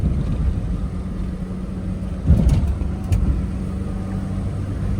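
A Daihatsu Move drives over a bumpy road. Its engine and road noise hum steadily inside the cabin, and a couple of soft thumps mark the bumps. No one speaks.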